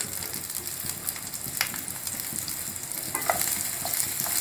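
Chopped onions frying in about a teaspoon of hot oil, with a steady soft sizzle and a few light clicks of stirring, heard close up and without speech.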